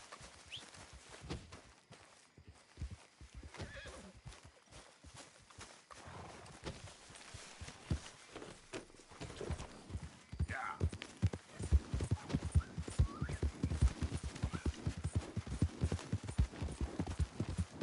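Horse hooves clip-clop in a steady walking rhythm in Red Dead Redemption 2, growing louder and closer toward the end over a low ambient hum, with a faint whinny.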